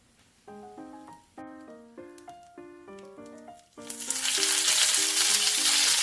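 Urad dal hits hot oil for a sweet potato leaf side dish, a loud, steady sizzle bursting in partway through and holding to the end, after a run of melodic tones.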